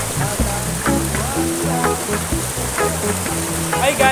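A small waterfall at Kaputian: a steady rush of falling water runs throughout under people talking nearby, with a few louder splashes and knocks.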